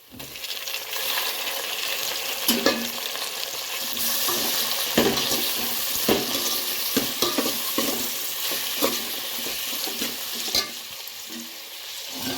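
Onions and tomatoes fry loudly in a pan with a dense crackling sizzle. Repeated scraping and clinking from stirring runs through the whole stretch, with no talk.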